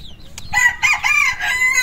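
Chickens in a coop, with a rooster's crow rising close and loud and hens clucking around it.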